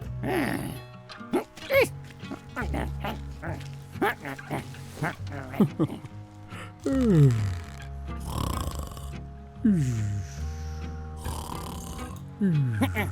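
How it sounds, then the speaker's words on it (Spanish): Exaggerated snoring sounds repeat in slow, rhythmic rounds, deep rattling inhales with some wheezy exhales, performed by a voice reading a children's picture book aloud about sleeping; spoken narration mixes in. "roncar."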